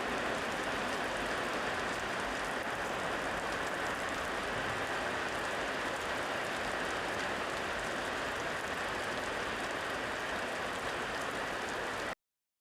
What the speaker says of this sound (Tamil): பார்த்தீங்கன்னா மழை ஆரம்பிச்சிக்கிச்சு